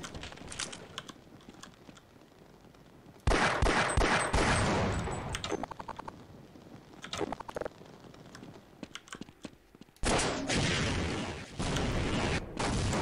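Rockets fire and explode in the Half-Life video game: heavy bursts of blasts and rumbling debris come in two long loud stretches, with sharp clicks and quieter clattering between them.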